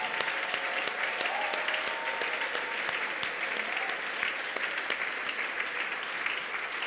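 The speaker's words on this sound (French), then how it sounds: "nous allons acclamer la parole du Seigneur" A church congregation applauding during a Sunday worship service, steady sustained clapping from many hands throughout, dense and continuous with a faint murmur of voices beneath.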